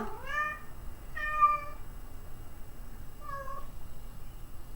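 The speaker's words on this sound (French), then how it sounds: "j'ai mon chat qui s'exprime" A house cat meows three times, two close together and a softer third after a pause, clear and fairly near in a quiet room.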